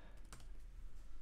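Keystrokes on a computer keyboard while a folder name is typed at a command line, heard as a few quick close clicks with one sharper tap standing out.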